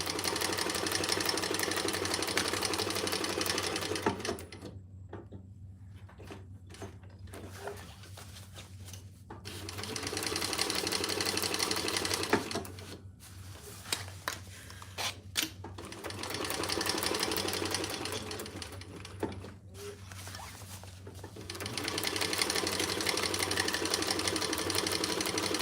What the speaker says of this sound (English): let's baste the rest of it. Just one little quick basting stitch